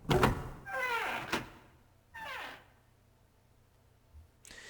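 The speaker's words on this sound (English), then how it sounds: "grabbed the doorknob and pulled the door open" A door pulled open in the video game 999, heard as a few mechanical creaks and swishing scrapes with a sharp thunk, then a brief pause and a second creaking swish, ending with a faint click.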